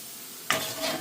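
Curry leaves hit hot oil while frying ingredients for a salmon fish pickle, bursting into a sudden loud sizzle halfway through after a quiet start, then crackling steadily close up.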